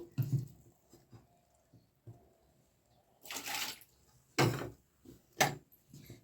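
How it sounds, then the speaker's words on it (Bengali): Water splashes and runs while a cooking pan (kadai) is rinsed in a kitchen after boiling dried lote fish, heard as several short bursts of washing separated by quiet pauses and small clinks. "কড়াটাকে একটু ধুয়ে নিই।"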